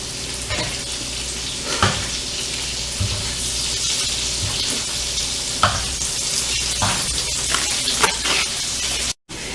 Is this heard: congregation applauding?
no